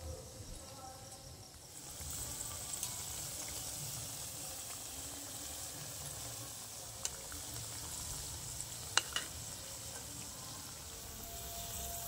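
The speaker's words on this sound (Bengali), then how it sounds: "অল্প অল্প আগুনে আস্তে আস্তে ভাজতে হবে এটা।" Puffed rice snack fries slowly in oil over low heat, giving a soft, steady sizzle with a few faint clicks and pops throughout.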